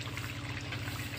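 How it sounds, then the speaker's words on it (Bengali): Water pours steadily into a pot of chicken curry, a continuous close splashing and trickling that runs unbroken and fairly quiet. "এবারে দিয়ে দেবো জল।"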